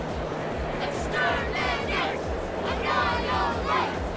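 A courtroom crowd in the video game Phoenix Wright Ace Attorney Spirit of Justice murmurs and clamours in a continuous noisy babble, with agitated voices rising in waves over a steady low rumble.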